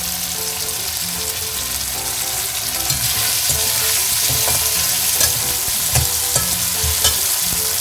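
Onion and tomato sautéing in a pan for drumstick sambar: a continuous loud sizzle with frequent spatula scrapes and knocks against the pan, no voices.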